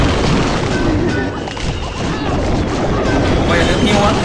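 Bomber troops in Clash of Clans explode in loud, overlapping booms and crashes that keep going through the whole stretch, with someone talking over the battle noise.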